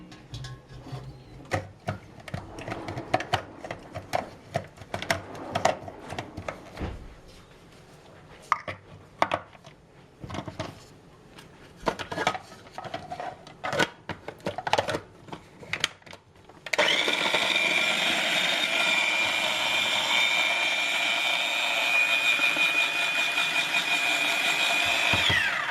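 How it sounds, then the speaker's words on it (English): A small blender finely chopping mushroom stems whirs steadily and loudly for the last nine seconds, after a stretch of clattering, knocking kitchen noises. "we're going to put it in a little blender and we're going to finely chop it"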